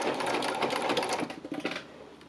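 A sewing machine stitches fabric leaves onto a stiff background fabric, a close, steady rapid whir that runs continuously and then slows and tapers off near the end.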